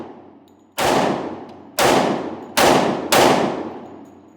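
Four shots from a 10mm Smith & Wesson M&P pistol at a range, loud sharp cracks spaced about a second apart, each with a short decaying echo, no talk.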